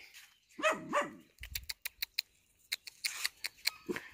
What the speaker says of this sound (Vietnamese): buổi sáng là quá trời chó